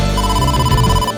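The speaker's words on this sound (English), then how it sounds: "possible incoming phone call" An incoming phone call rings in the video game AI: Somnium Files, a loud steady electronic ringtone tone held throughout with a low buzzing underneath, no talking.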